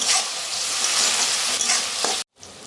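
Onion and tomato fry in a hot pan for a chicken curry with ridge gourd, making a loud, steady close sizzle with stirring scrapes that cuts off abruptly near the end, with no talking.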